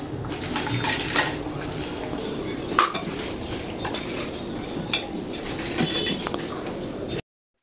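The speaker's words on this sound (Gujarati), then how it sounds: "હવે આને મિક્સ કરીશું." A spoon stirs and scrapes through a cheese mixture in a metal pot or bowl during home cooking, with steady clinking and scraping strokes close up, continuous for several seconds before stopping abruptly.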